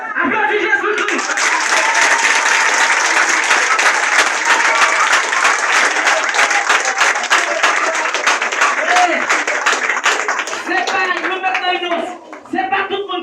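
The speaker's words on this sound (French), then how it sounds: "Applaudis Jésus-Christ" A church congregation applauds loudly and steadily for about twelve seconds, a dense wash of many hands clapping, with voices calling out over it and a brief dip near the end.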